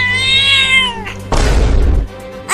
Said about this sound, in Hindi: अब वो बिल्ली तुम्हें छोड़ेगी नहीं, काट के ही मानेगी। देखो वो आ गई, वो आ गई।